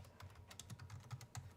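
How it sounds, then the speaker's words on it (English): Quiet computer-keyboard typing, a steady run of soft key clicks at an uneven rhythm, faint and in the background. "That's not the cat. That's typing."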